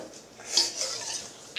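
Cake batter is mixed in a bowl late at night, with a close, brief run of scraping and clinking from a utensil against the bowl and no voices.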